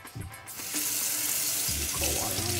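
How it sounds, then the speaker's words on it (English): Cold water runs from a sink tap over a hot brass instrument mouthpiece, a steady close splashing rush that swells after a brief start and continues without talk. "Alright, I'll take it to the sink."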